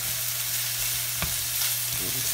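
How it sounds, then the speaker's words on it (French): Pad Thai ingredients with bok choy frying together in a pan, a steady close sizzle with a low hum underneath and a brief clatter partway through, no talking. "Déjà vous voyez, le bok choy commence à cuire là."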